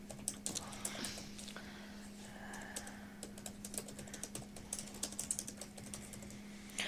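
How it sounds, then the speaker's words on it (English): Steady typing on a computer keyboard, fast irregular key clicks close by and fairly quiet over a constant low hum, no voices. "this is me typing away"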